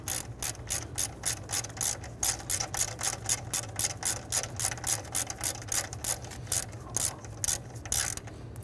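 A ratchet wrench tightens the battery cable nut on a 1999-2004 Jeep Grand Cherokee, giving rapid, regular clicking bursts close up, pausing briefly between strokes, over a low steady hum with no talking.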